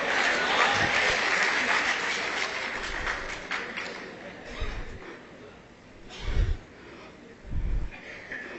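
An audience claps after a poem recital: dense, broadband applause fills the first half, then thins into scattered claps with a few low thumps and some voices underneath.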